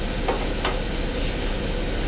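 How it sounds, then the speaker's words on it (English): Fish seasoned with salt and pepper fries in a pan at a lakeside campsite, giving a steady close crackling sizzle with a couple of brief louder pops. "So we have got our fish frying away here."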